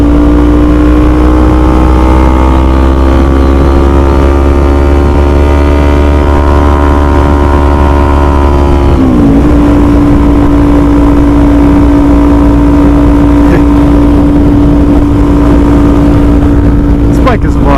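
Kawasaki Z400 motorcycle engine droning steadily while riding, a loud continuous tone with harmonics that rises through the first half, dips briefly as it shifts, then holds a steady pitch, with wind rush and a voice talking over it.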